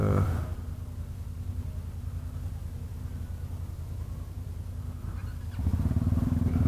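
A Kymco maxi scooter hums steadily under a rider on a group ride, with a close, low engine drone and wind noise that swells louder near the end and no talk.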